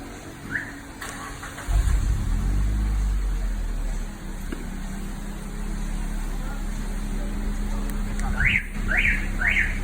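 A car fitted with a keyless door alarm system is remote-started: the engine cranks and catches, settles into a steady idle, then a quick burst of high electronic alarm chirps sounds near the end.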